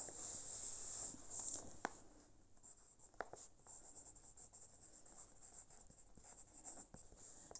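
Pen or pencil writing on paper while a maths measurement exercise is worked out, a soft continuous scratching with brief taps and strokes, close and quiet, with no talk over it.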